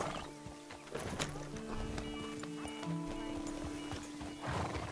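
Horse hooves clip-clop and a whinny rings out in the open-world western game Red Dead Redemption 2, with steady mid-level hoof steps, tonal animal calls and some ambient game sound throughout.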